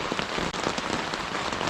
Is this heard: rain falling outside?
yes